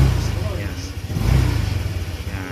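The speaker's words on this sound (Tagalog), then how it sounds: "pakinggan yung galit na makina para siyang lunod" A fuel-injected Honda motorcycle engine revving near the mic, its uneven low throb rising and falling in surges while someone talks over it.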